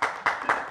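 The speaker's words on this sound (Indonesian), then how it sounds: "Ayo tepuk tangan." Brief burst of audience applause in a talk-show studio, steady clapping from a crowd, close and fairly loud, with no voices over it.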